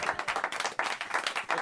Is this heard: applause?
yes